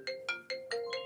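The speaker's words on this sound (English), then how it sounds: "My phone's going off!" A phone ringtone goes off, a repeated electronic chirp-like tone sounding five times in an even, quick rhythm, fairly soft and heard alone.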